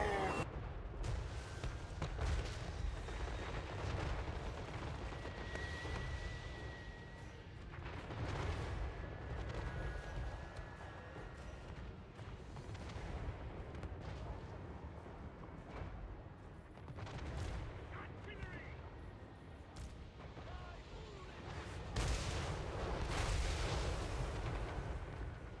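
Artillery and gunfire in a Total War: Warhammer III battle, with repeated booms and bursts of shots rolling on for over twenty seconds at a fairly low, distant level.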